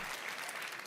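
A large audience at Bethesda's E3 2018 showcase keeps up steady applause and cheering, a dense, even wash of clapping heard from a distance.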